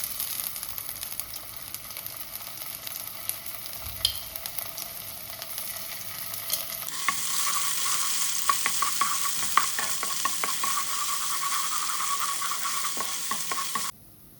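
Ginger garlic paste sizzles and fries in a hot pan while it is stirred, giving a steady crackling hiss that turns louder and denser about halfway through, with scraping stir sounds and no talk.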